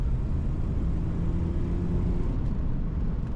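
Jaguar XJ12 Daimler V12 saloon pulling hard on kickdown, a steady low engine drone heard from inside the cabin, loud and continuous with road rumble and no talk.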